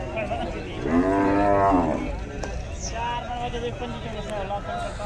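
A Cholistani bull at the Multan cattle market gives a long, loud, close moo that swells and fades over about a second, with crowd chatter and market noise continuing around it.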